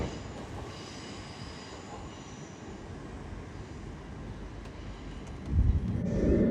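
An LNER Azuma train passes through Alexandra Palace on the East Coast Main Line, giving a steady rolling rumble of wheels on rails that swells louder and nearer toward the end.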